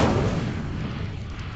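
Incendio fire spell cast in the video game Hogwarts Legacy, a loud whooshing burst of flame that roars at the start and fades gradually over about a second and a half.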